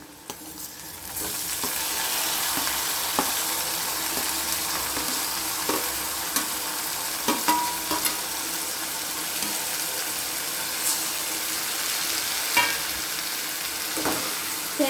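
Tomatoes frying in a pan for tomato pachadi, with a steady broadband sizzle throughout and occasional sharp clicks of a spoon stirring against the pan.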